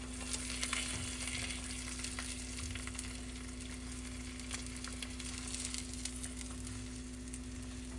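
Eggs with popped yolks sizzling in a frying pan, a soft steady crackle with faint pops and a low background hum, quiet and unbroken by talk.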